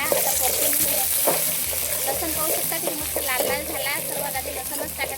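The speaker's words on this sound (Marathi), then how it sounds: "आता मस्त कांदा जो आहे ना तर लालसर होईपर्यंत मस्त परतून घेऊ" Sliced onion and garlic fry in a pan with a steady, loud sizzle, and a spoon stirs through it now and then. A bit of background noise sits under the frying.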